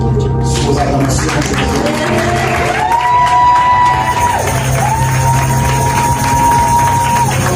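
A church congregation on a pastor appreciation day cheers and shouts in acclaim for the pastor, a loud sustained crowd roar with whoops and rising held vocal tones above it.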